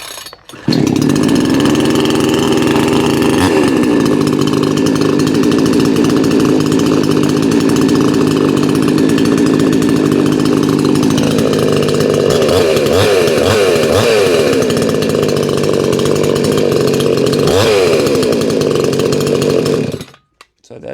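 A Hyper Tough chainsaw engine runs loud and steady after starting, with the choke being switched off partway through, its pitch shifting and revving slightly, close to the listener with no talk.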